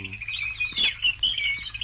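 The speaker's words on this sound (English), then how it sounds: "This is the sound of a swamp." Birds in a swamp give thin, high chirps and warbling calls in short overlapping bursts over a low background hum, moderately close and unaccompanied by speech.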